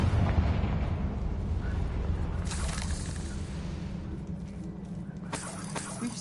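Confringo blasting curse in the Hogwarts Legacy video game: a loud, sustained rumbling blast with a dense low roar throughout, flaring into two bright bursts midway and near the end, with no one talking.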